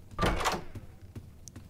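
A door swings open in the horror video game Doors, one short muffled thud followed by softer knocks and a brief faint click.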